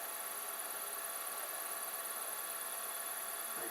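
A quick release belt drive motor runs steadily in reverse, giving a continuous, even, broadband whir with a faint mechanical hum that holds constant throughout.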